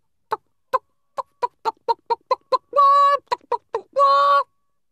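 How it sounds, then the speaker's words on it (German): Rapid series of short, close chicken clucks, broken twice by longer drawn-out squawks, loud against silence. "ein Huhn."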